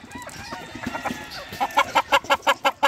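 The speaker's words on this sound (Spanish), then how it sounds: "Con la gallina de mi amigo Alexis" Hens cluck in a quick, close run of sharp, evenly spaced calls that grow louder and more regular toward the end.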